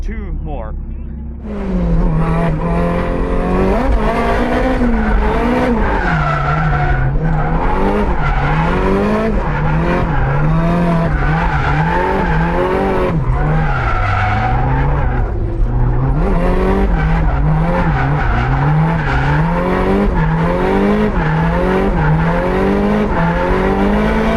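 A turbocharged BEAMS-engined Toyota AE86 drifting at FuelFest Phoenix 2025, engine revving hard and rising and falling continuously with tires squealing, loud and close throughout with no pause.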